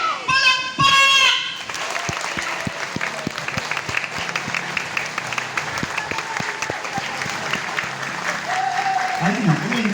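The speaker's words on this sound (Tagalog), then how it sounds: "Palakpak!" An audience bursts into applause after a brief voice: many hands clapping in a dense, steady patter that carries on to the end, with scattered crowd noise.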